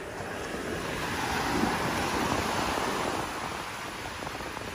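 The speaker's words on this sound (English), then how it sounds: "The waves are different every day." Ocean waves breaking on a beach form a steady, broad roar that swells slightly in the middle. The surf sounds fairly close and is mixed with wind noise, with no talking.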